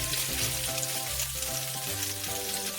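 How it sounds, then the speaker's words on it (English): Food sizzles in a pan while sautéing for Spanish fideuá, a soft continuous frying hiss, quiet and close, with no one talking. "And then we will start to saute."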